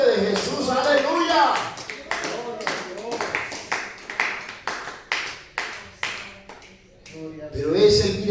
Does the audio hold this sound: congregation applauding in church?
yes